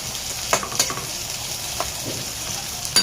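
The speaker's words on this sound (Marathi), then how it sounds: "आणि कांद्याला व्यवस्थित आपण भाजून घेऊ." Onions frying in a pan with garlic, ginger and green chilli for a katolle bhaji, a steady close sizzle with a few sharp scrapes of a spatula, no talking.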